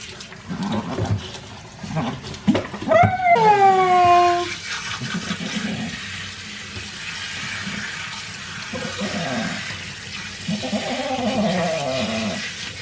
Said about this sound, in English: we're just using the water to get all of the conditioner out of the coat